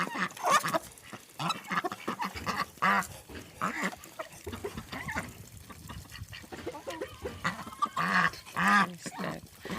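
Village farm poultry, including roosters, on a frosty morning make a busy mix of clucks, squawks and honking calls. The calls overlap in quick irregular bursts at a moderate distance.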